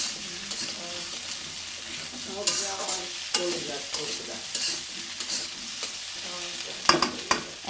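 Spices and food frying in a hot pan in a home kitchen, with a steady sizzle under repeated scraping and stirring strokes of a utensil, close and moderately loud, plus a few sharper clanks near the end.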